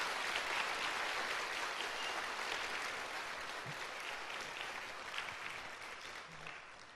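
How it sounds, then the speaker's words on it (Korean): A church congregation applauds in a steady, sustained wash of clapping that stays fairly distant and gently fades toward the end. "힘찬 격려의 박수 한번 부탁드립니다"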